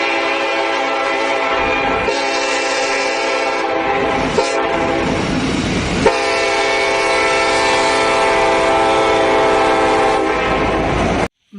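Train arriving with its horn sounding, a loud, sustained tonal blare that dominates, shifts in pitch partway through and holds steady before cutting off abruptly near the end, with no talk.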